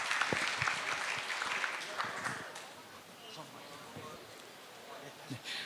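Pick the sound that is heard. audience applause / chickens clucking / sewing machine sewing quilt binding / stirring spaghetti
audience applause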